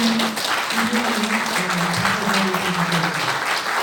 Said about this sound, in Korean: 뜨거운 박수로 저희들 창립운동